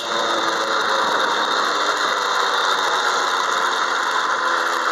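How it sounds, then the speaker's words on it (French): A Peugeot 103 moped engine revs hard and holds a high, buzzing whine for several seconds, loud and close, with some vibration rattle mixed into the drone. "Il teste ma mobylette."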